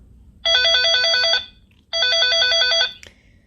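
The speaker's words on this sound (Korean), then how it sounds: "이렇게 전화가 울리는 소리가 나고" A toy phone plays a bright electronic ringtone in two identical bursts, each about a second long, separated by a short pause, with a small click at the end.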